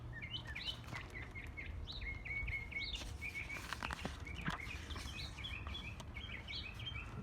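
Sparrows chirp in a garden on a hill, a steady stream of short, bright tweets and trills repeating close by over a soft, constant outdoor hum, with no talking.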